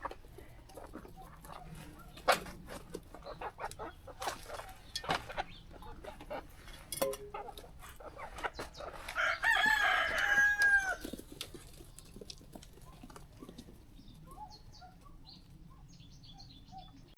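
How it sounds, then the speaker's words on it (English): Young chickens on a smallholding cluck softly amid scattered rustling and footsteps, then a rooster crows once, clearly, at mid-distance before the yard settles back to quiet pecking sounds. "Now I've done the ducks, the youngster chickens can come out"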